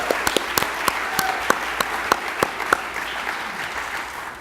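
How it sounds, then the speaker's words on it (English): Scattered hand claps from a small group at a business pitch competition, a dozen or so sharp claps spread unevenly across a few seconds, fading toward the end. "Let's give our advisory board members a big round of applause."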